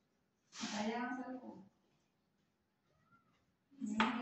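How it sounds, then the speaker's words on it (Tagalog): A cat gives a drawn-out meow, then after a short pause starts another, close by and fairly quiet. "Yung pusa namin."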